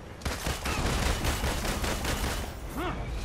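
Rapid bursts of gunfire from the video game Marvel's Avengers rattle on continuously and loudly, ending with a sweeping whoosh.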